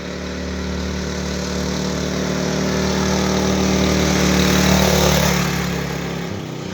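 A racing tractor engine runs steadily close by, a droning, buzzy mid-pitched hum that swells slightly in loudness before easing off and cutting down at the end, with no talk over it.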